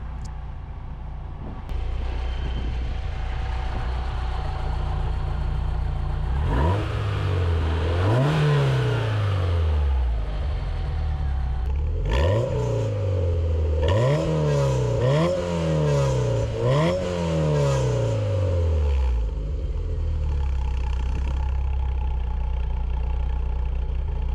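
A 1998 Lotus Elise's small four-cylinder with upgraded cams idles, then rises through several sharp, loud revs with quick drops back between them, captured close and alone.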